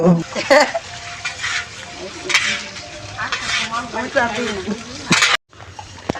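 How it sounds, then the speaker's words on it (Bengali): Khichuri is stirred and scooped out of a large wok at a neighbourhood festival feast, with scraping ladle clanks and a soft sizzle under nearby conversation. "এই এক কড়াই তোলা হচ্ছে খিচুড়ি এখন"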